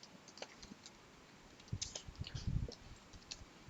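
Light clicking of keys on a computer keyboard while a Helm history command is entered, a few sparse taps early, then a denser short burst of keystrokes near the end.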